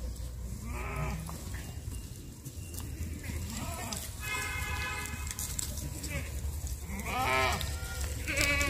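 Goats bleat repeatedly at a shepherds' night camp in Uttarakhand, several short wavering cries spaced through the clip, some near and some farther off, with people talking in the background.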